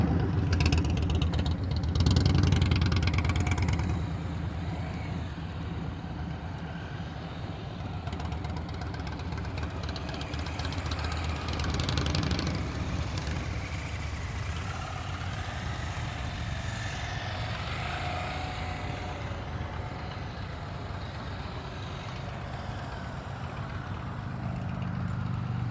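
Motorcycle engine ticking over at low throttle during slow-speed riding practice, a steady low rumble with a louder surge at the start, then holding an even, moderate idle-like drone throughout.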